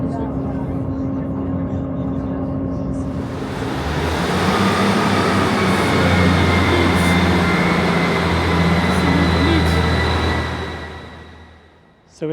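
A Northern train on the line beyond Settle Junction heading towards Skipton rolls past, growing from a low rumble to a loud, sustained roar of wheels and engine, then fading near the end.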